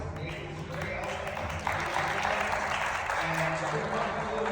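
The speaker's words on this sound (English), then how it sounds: "Just a round of applause for this guys." An audience at a Santa Fe community event applauds, the clapping swelling partway through into a fuller burst, with voices and crowd murmur mixed underneath.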